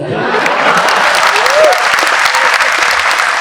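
Audience clapping at a launch event for a Gujarati-language website, a dense, steady wash of applause filling the whole stretch, with a brief voice rising over it midway.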